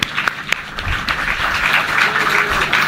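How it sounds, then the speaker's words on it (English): Audience applause at a public ceremony for a mobile power generation unit, a dense, steady wash of clapping from a large crowd that holds at an even level for the whole stretch, with a few sharper claps standing out near the start. "give a round of applause to all of our speakers"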